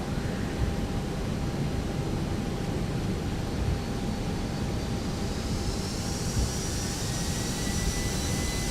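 The jet engines of a ToLiSs A320ceo in X-Plane 12 roar steadily through the takeoff run, a dense broadband rush with a thin whining tone that rises toward the end and no break in the sound.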